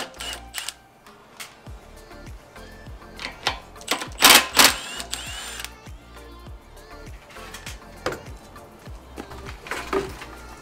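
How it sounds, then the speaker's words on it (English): A ratchet driving a 10 mm socket clicks irregularly as it loosens the airbox nuts on a DuroMax 420 go-kart engine. The sharp ticks come in close bursts with short pauses, fairly loud and near. "Use a 10 millimeter socket to take the airbox nuts off."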